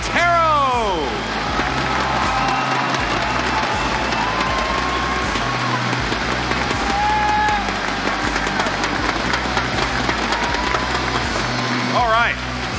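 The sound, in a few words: audience applause and cheering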